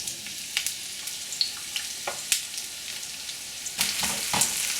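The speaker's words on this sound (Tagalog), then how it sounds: "pwede na natin igisa yung sibuyas at yung bawang. Uunahin natin yung sibuyas." Onion sautéing in cooking oil in a pan, a soft continuous sizzle with scattered crackles and light stirring clicks up close, growing slightly louder toward the end, with no voices.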